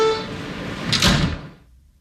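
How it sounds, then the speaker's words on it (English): Subway train doors slide shut with a close, loud whoosh and thud after a faint tonal chime, then the sound fades out, with no talking. "Stand clear of the closing doors,"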